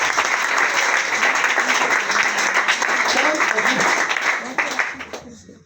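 A church congregation applauds and cheers in praise at an evening worship gathering, dense continuous clapping with voices mixed in, loud and sustained before tapering off at the end.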